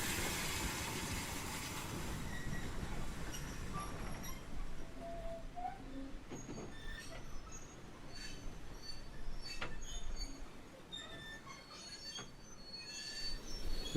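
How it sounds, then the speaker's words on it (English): Steam freight train standing at Ropley station during a spring steam gala, a steady broad rumble and hiss with scattered metallic clanks and squeals, birds faintly in the background on a windy morning. "The up freight train is watering here at Ropley."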